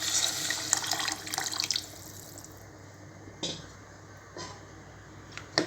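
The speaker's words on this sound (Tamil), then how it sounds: "இப்போ ரெண்டு கப் ரைஸ்க்கு வந்து நான் 4 கப் தண்ணி ஆட் பண்ணிக்கிறேன்." Water pours from a tap onto rice for chana biryani, a splashy rush at first that tapers into lighter trickles and a few brief splashes.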